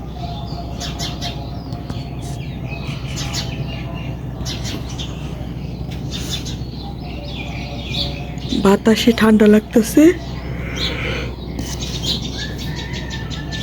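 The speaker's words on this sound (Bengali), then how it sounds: "দেখেন পাখিগুলা, কতগুলা ছোট ছোট পাখি বসে আছে বড়ই গাছে শীতের মধ্যে।" Small birds chirp and tweet in a jujube tree on a cold, windy winter morning outside a balcony. Scattered high calls continue throughout under steady wind noise, while a person talks nearby.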